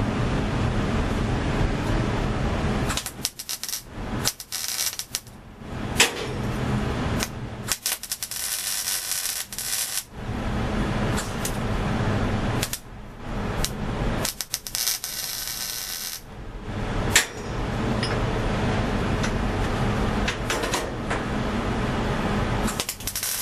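A welder tacks a metal canopy frame in a workshop, the steady crackling arc buzz repeatedly cutting in and out in short bursts of varying length, loud and close throughout.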